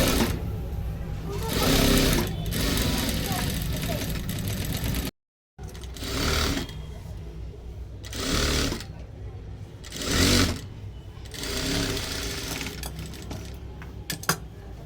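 A sewing machine stitches seams on a blouse in short, loud bursts of rapid mechanical chatter, with brief pauses between runs and someone talking over and between them.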